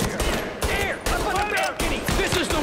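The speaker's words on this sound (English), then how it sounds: "Tommy gun." Tommy gun fire in the video game Mafia Definitive Edition, several loud rapid bursts of automatic shots cut by short pauses, with a voice faintly mixed in.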